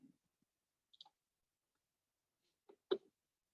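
Computer mouse clicking while working in route planning software: a few faint, sharp clicks spaced apart in near silence, with a slightly louder double click toward the end.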